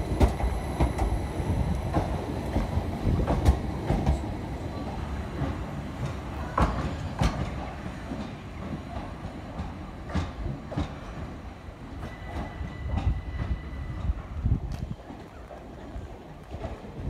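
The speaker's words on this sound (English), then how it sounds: "departing at now should be the 12:47 Southern Service to Hastings from Brighton, 387219 and Gatwick Express livery" A Class 387 electric train, unit 387219 in Gatwick Express livery, pulls out of Brighton station on a Southern service with a continuous rumble and rhythmic wheel clatter over rail joints, fading slightly toward the end.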